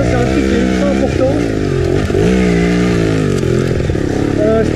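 A trial motorcycle engine runs steadily and loudly throughout while being ridden, its tone rising and falling with throttle, under a man's continuous speech.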